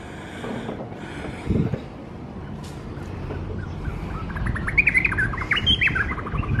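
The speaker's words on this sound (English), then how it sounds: "So many birds here." Many birds squawk and chirp in an outdoor spot near Cairns, with busy overlapping calls that grow denser and louder toward the end over a background rumble.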